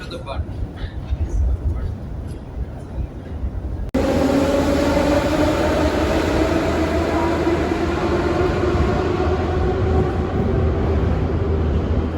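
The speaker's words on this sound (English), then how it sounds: "we got in the metro and got off at Station Square" Interior of a metro train during a ride between stations, a loud steady rumble and whine of the moving carriage filling the background, stronger after a sudden jump at about four seconds, with faint voices beneath.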